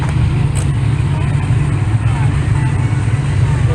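A big block Chevrolet engine runs at a car show, a loud, steady low rumble close by that holds without a break.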